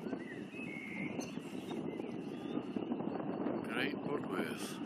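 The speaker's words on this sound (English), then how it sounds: "the wind is getting up" Wind gusts steadily across the microphone beside Pickmere lake, a broad continuous rumble that builds slightly toward the end, with faint voices and brief distant high sounds mixed in.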